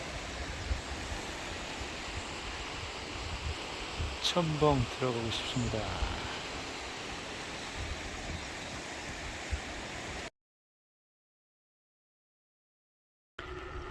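Mountain stream rushing through Jindong Valley, a steady broad wash of flowing water heard close, briefly under a voice, then cut to silence before resuming at the end.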